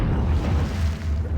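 A deep, rumbling explosion in the adventure game The Dig, a heavy low boom that fills the whole moment and rolls on without any voices.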